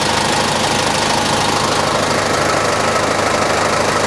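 A used Japanese forklift's Toyota 2Z 3.4-litre diesel engine runs steadily, a loud, close, continuous idle with a rough knocking rumble and no pauses.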